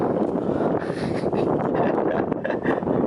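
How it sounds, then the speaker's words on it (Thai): Wind blowing by the Pranburi river at a scenic viewpoint, a strong continuous rumbling gust buffeting the microphone, loud and close with no clear speech. "โอ้ยลมจะปิว"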